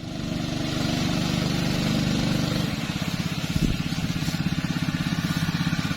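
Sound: Honda 6.5 hp pump engine running

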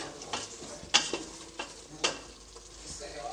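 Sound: masala frying in oil

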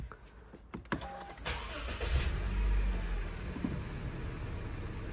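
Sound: Honda CR-V 2012 engine starting and running

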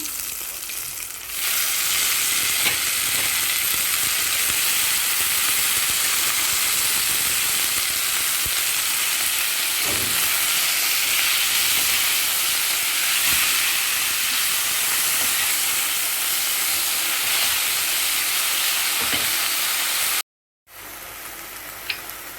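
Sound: chillies and mint leaves frying for mint chutney

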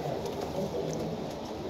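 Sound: pigeons cooing

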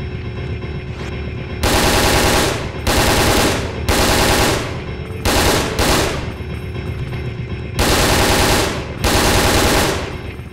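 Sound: gunfire shooting zombies in video game Resident Evil: Dead Aim

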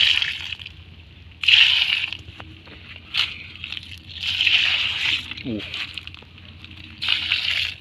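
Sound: water poured onto soil over earthworm casts

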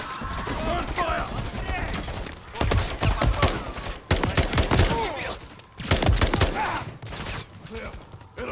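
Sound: gunfire in Call of Duty Modern Warfare III video game

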